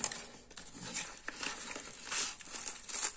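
Plastic packaging crinkles and rustles while a G10S Pro voice remote with backlight is unboxed, with soft irregular crackling and scrunching over about three seconds, close by with no talk.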